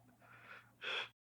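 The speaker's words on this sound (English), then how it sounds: "his breathing stops, letting out one final exhale" A single breathy exhale as a dying man's breathing stops: a soft airy release that rises into one stronger, close push of breath and then cuts to silence.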